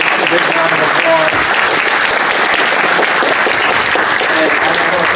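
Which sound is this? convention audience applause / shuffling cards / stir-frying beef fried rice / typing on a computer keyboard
convention audience applause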